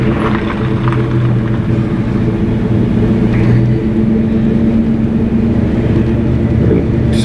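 A big old Chevy pickup truck backs out, its engine giving a steady, loud low rumble that holds without pause and with no talking over it.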